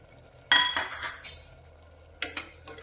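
A spoon clinks and scrapes against a pan as spice masala is stirred into ridge gourd curry, a few sharp metallic knocks in two quick bursts over a soft background sizzle.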